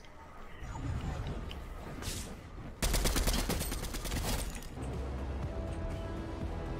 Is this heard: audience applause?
no